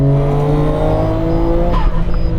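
A 2020 Nissan GT-R 50th Anniversary Edition driven hard through a corner, its loud engine note rising steadily, with a brief tire squeal and shift near the end, no talk.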